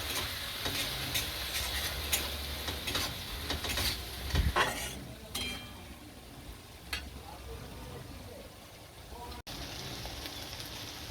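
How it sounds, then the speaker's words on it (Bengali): A spoon stirs and fries spice paste with turmeric in a pan, giving a steady soft sizzle with scraping strokes throughout, close and moderately loud. "এবার ভালোভাবে কষিয়ে নেব।"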